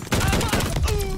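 Quick run of loud shots from a marksman rifle in Call of Duty: Vanguard multiplayer, close and punchy, with a voice partly audible underneath.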